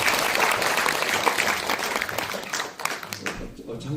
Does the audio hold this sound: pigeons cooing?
no